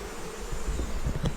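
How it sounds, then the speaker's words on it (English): Honeybees buzz around an open hive frame as the colony is worked, a steady close insect hum with low rumbling handling noise beneath it. "I've got good bee population"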